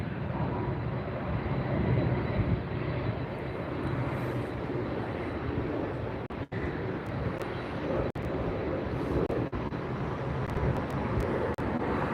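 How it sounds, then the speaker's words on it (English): A United Airlines Boeing 777-222 arriving at LAX airport at sunset, heard as a continuous broad engine rumble and roar that holds steady throughout, with a few faint clicks. "Coming in is going to be a 777."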